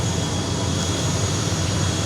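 An aircraft engine roaring steadily at an airport after landing on the way to Tanna Island, Vanuatu, a loud continuous broadband drone with no talk over it.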